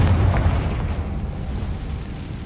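A Confringo blasting spell detonates in the Hogwarts Legacy video game, giving a loud, low booming burst that rolls into a dense, rumbling roar and slowly thins out.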